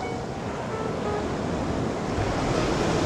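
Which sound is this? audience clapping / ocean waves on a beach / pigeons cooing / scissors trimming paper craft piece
ocean waves on a beach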